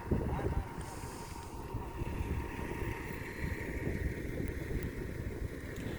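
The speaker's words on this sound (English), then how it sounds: "And yes, it's still very windy." Strong wind blowing outdoors at an off-grid homestead, a rough, constant rumble buffeting the microphone, with a voice speaking over it.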